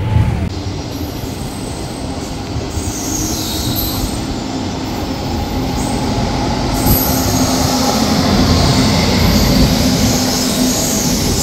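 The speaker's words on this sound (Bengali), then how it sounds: "এখন আমাদের ট্রেনের দ্বিতীয় হল্ট আসছে আন্দুল।" A Kolkata to Digha special-fare passenger train running, heard loud from inside a general-class coach: a constant heavy rumble of wheels on track with a persistent high metallic squeal.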